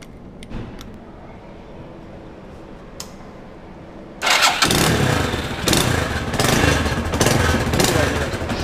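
Falcon Freedom 250 motorcycle engine starting up after a quiet stretch with small clicks, then running loud and steady at idle with rough, slightly uneven revving close to the microphone.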